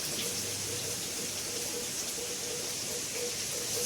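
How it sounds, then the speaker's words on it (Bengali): Heavy rain pours down in a steady, unbroken hiss, close and loud, with no voices over it. "আর ভীষণ হারে বৃষ্টি হচ্ছে"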